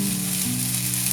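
Eggs and hash browns fry in a pan with a steady, close sizzle and hiss, and no voices.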